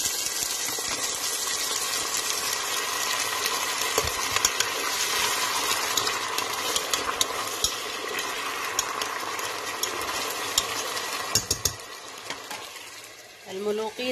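Onions frying in butter in a pan while mulqiyo is being cooked, giving a steady, dense sizzle that lasts throughout, with a person talking over it.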